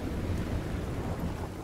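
Steady rain with low rumbling thunder in the video game Modern Warfare 2 Remastered, a continuous dense wash of downpour with a deep roll beneath, heard alone with no talking.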